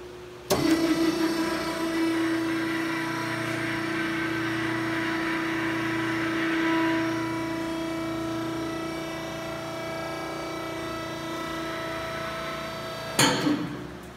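A Hercules automatic barrel dumper with a 1 horsepower, 460 volt motor switches on and runs with a steady, loud mechanical hum and whine for about thirteen seconds, then cuts off with a brief clunk.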